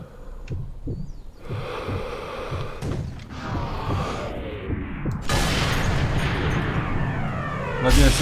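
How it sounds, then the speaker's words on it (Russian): A cannon fires in the video game Sniper Elite 3, a heavy booming rumble over a dense, noisy battle soundscape that swells louder toward the end. "пушка, наверное, стреляет."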